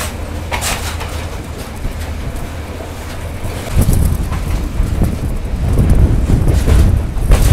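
Strong coastal wind beside the Laccadive Sea buffets the microphone during a train journey, with loud, continuous low rumbling and roaring gusts that swell stronger partway through.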